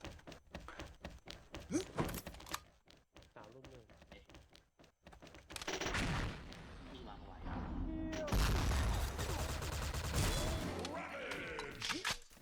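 Gunfire in a shooting video game, bursts of shots and heavy thumps and booms that grow denser and louder in the second half, with someone talking over the action.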